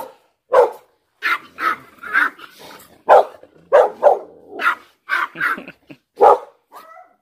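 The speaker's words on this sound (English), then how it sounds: "Their dogs are outside. So it's dog wars." Several dogs bark and yip in quick, overlapping bursts, fairly close and loud, with a brief growl near the end.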